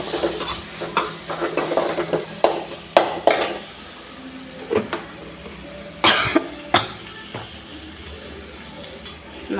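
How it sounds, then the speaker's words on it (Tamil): Chili powder and garam masala being stirred into curd chutney with a spoon, giving close scraping taps and clinks against the bowl in an uneven rhythm, with a cough breaking in once or twice. "தனி மிளகாத்தூளும் கரம் மசாலாவும் போட்டு நல்லா கலக்கிக்குவோம்."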